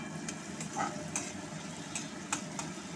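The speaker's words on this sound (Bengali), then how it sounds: "দিয়ে ভালো করে নাড়তে থাকলাম যাতে মশলাগুলো সুন্দরভাবে মিশে যায়।" Ridge gourd and potato stirred with turmeric, salt and spices in a pan make a soft, steady sizzle with light scraping strokes and a few sharp clicks of a spoon, fairly quiet and without speech.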